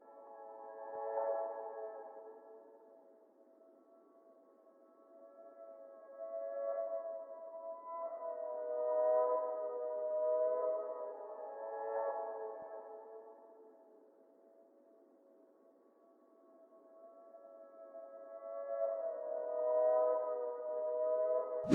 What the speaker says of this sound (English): So that's how the reverse piano sounds like.